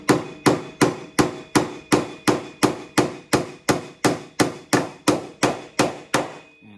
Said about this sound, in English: I'm going to swing it from above and aim straight down and knock this nail in